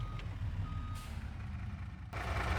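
A MAN truck hauling a trailer reverses in Farming Simulator 2025, its engine droning low and steady, with a faint beep and a brief hiss partway through.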